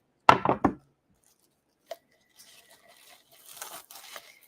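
Onions for potato salad being chopped on a board, a quick cluster of sharp knife chops up front, then a lone tap and softer faint rustling and scraping afterward, close.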